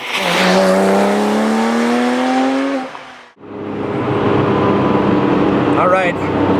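A Porsche 911 GT3 sweeps through a curve on a bumpy road, its engine note rising in pitch, dipping briefly, then building again as a steady, close roar under ongoing talk.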